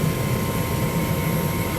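A gas furnace burner lights with a steady broadband roar and low rumble, continuous and fairly loud throughout, like rushing flame in a residential furnace that had a no-flame fault.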